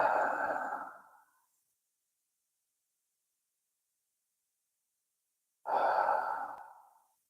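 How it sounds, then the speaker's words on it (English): Two slow, deep breaths, each a long soft airy whoosh that fades out, separated by several seconds of silence and heard close up. "And take some slow,"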